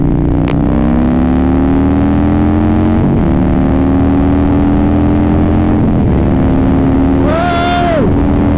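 Harley-Davidson stage 3 M8 124 motorcycle accelerating hard in third gear, a loud, close, steady engine drone rising in pitch, with a brief gear-change dip and a short voice exclamation near the end.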